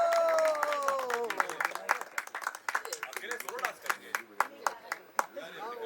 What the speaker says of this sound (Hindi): जोरदार ताली रुकनी नहीं चाहिए